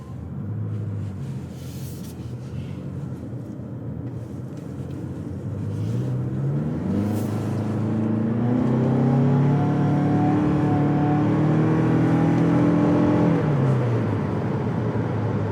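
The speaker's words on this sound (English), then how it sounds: "And it accelerates quite quickly." A 2021 Toyota Venza accelerates from inside the cabin, its engine rising in pitch as it revs up, with a steady low road rumble underneath and no talking.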